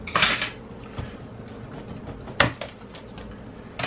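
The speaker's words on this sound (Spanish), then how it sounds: "Un tornillito, movemos esta tapa" A plastic cover comes off a Samsung laptop after a screw is removed, giving a few sharp clicks and clacks: a cluster at the start, a single knock, then another crisp snap, close and quiet between.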